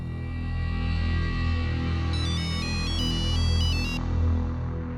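A bright electronic ringtone chimes in a repeating melodic pattern over a steady low background hum, fairly close and clear.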